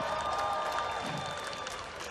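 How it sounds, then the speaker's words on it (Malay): Steady, faint applause from an audience at a Malaysian national launch event, honoring Prime Minister Datuk Seri Ismail Sabri, with a diffuse crowd wash and no clear voices. "tepuk tangan buruh untuk Perdana Menteri Malaysia kita"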